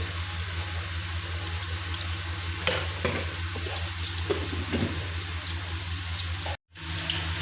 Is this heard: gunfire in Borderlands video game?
no